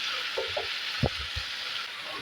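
Tomato and onion sizzle in a pan for a tomato gojju, a steady bright hiss of frying with a few soft stirring knocks underneath.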